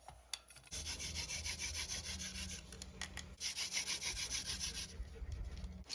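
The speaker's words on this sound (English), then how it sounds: "So now we're gonna carve our notch." Pocket bowie knife carving a notch into wood for a spindle, with repeated close scraping and rasping strokes, brief pauses between bursts of shaving.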